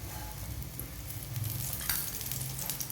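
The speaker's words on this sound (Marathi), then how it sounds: "आता व्यवस्थित असं दाबून दाबून आपल्याला छान अलटवत पलटवत खरपूस असं भाजून घ्यायचा आहे पराठा" A lachha paratha made from wheat flour and ghee is pressed and roasted in a pan, giving a steady low sizzle with a few soft scrapes and taps, close and unaccompanied by talk.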